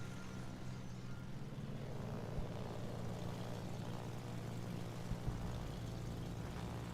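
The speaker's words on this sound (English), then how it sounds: "I think these are skip bombers." Skip bomber aircraft in the naval combat game World of Warships drone overhead with a low, steady propeller hum, faint and continuous with small engine fluctuations.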